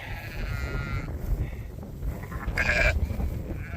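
Sheep and lambs on a farm give a couple of short bleats at mid distance over a low, steady background hum.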